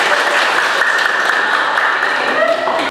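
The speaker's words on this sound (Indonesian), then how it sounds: "Oke, tepuk tangan dulu" Classroom applause from a group of students, steady dense clapping close by lasting about three seconds before stopping abruptly, with faint voices mixed in.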